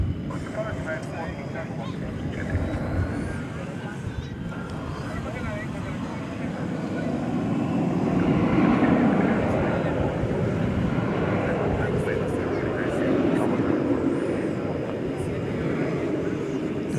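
An airplane at DFW Airport at night gives off a broad, distant roar that swells gradually and holds steady, with a faint hum behind it.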